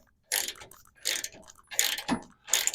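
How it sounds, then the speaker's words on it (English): A hand tap chasing the threads of a nut plate for an off-road vehicle recovery point, heard as four short bursts of scraping, ratcheting metal with brief pauses between turns. "you'll need to chase them with your tap"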